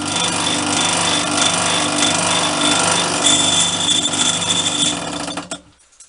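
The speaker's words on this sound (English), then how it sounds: "Now I'll carry on with the drills until I come near the 1 inch" A vintage bench drill bores through metal with a loud, steady grinding whine and rattling chatter that runs continuously for about five seconds, then cuts off abruptly into near silence.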